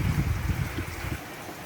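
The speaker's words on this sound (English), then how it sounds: "And still the rain continues as we get close to finishing this vlog." Heavy rain falls steadily during the Queensland floods, a dense broadband wash that stays loud throughout with low rumbling gusts that ease off near the end, and no talking.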